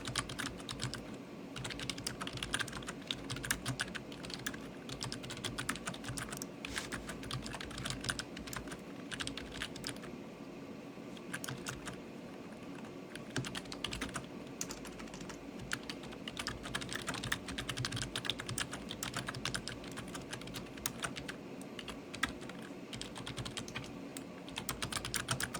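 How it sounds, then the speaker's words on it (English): Rapid, steady clicking of keys on a computer keyboard, close and continuous for the whole stretch, with no pauses and no talk. "Sorry about the typing, Al."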